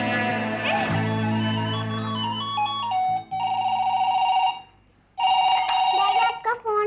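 A telephone rings with a repeating electronic melodic ringtone, loud and close, playing in bursts with a short gap between phrases.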